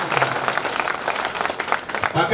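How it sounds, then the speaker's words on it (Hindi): Audience clapping at a Hindi poetry recital (kavi sammelan), a brief, dense burst of many hands with a voice speaking over it. "तालियां कम रह गई आपकी"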